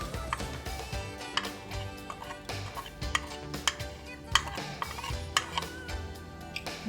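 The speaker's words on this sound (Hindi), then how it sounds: "इसको मिक्स कर दूँगी" A spoon stirring coarsely ground roasted chilli, black pepper and salt together, a steady stream of soft scraping and light ticking taps nearby, no voices.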